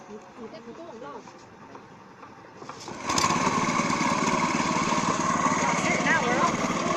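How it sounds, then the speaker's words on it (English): An outboard motor on a small boat in Cambodia or Vietnam is started with an old rope, catching and settling into a loud, steady near drone, with a voice talking over it beforehand. "he's going to kick the motor into gear"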